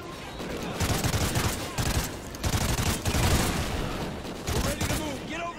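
Bursts of automatic gunfire rattle in Call of Duty: Ghosts, in the Atlas Falls mission on Veteran, with repeated rapid volleys and brief pauses, loud and close, and a player's voice talking over the shooting.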